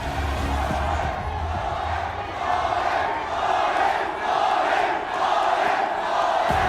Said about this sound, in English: The crowd has chanted.